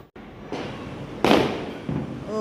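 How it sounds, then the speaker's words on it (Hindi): Firecrackers and rockets go off around a village, several sharp bangs and crackles in quick irregular succession at moderate distance, with brief whistling at the end. "और हमारे गांव में चल रहे थे इस तरह से पटाखे, रॉकेट।"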